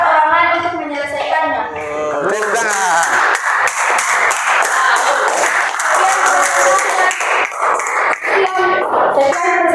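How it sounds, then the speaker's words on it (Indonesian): A classroom of junior high students breaks into applause, a burst of fast, loud clapping that swells after a few seconds, fills most of the stretch and then trails off, with a voice speaking briefly at the start. "Tepuk tangan."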